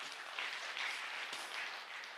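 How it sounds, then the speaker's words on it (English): A gathering at a remembrance event for Dr. K. Chandrashekara breaks into applause, heard as a faint, distant, steady patter of many hands clapping with no voices. "So please give him a big clap for him."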